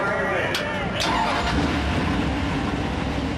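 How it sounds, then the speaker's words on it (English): Stock car engines of the CASCAR Super Series fire up on the starting grid at Kawartha Speedway, 29 Dodge-led cars rumbling into a dense, steady roar under an announcer's voice. "Time to fire up the engines."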